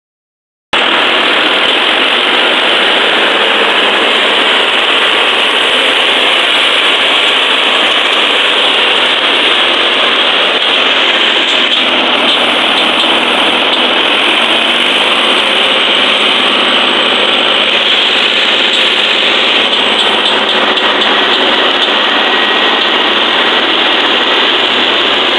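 Three tractors strain together to push a heavily loaded vehicle in a rural village, their engines making a continuous, loud, droning roar that holds steady for about twenty-five seconds.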